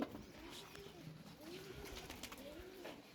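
Pigeons coo softly at home in a repeated low rolling call, faint and somewhat distant over quiet background noise.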